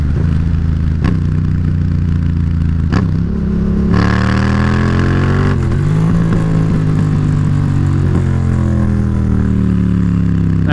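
A Yamaha FZ-07 motorcycle engine hums loud and close while riding, its pitch rising and dropping through several gear shifts, with a clunky missed upshift and rev changes, and no talking.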